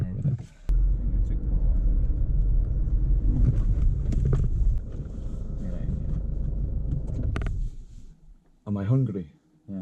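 Car interior with a shepherd driving and a lamb aboard on a Scottish Highland sheep farm: steady low engine and road rumble with wind noise for most of the stretch, then a quieter pause and brief speech near the end.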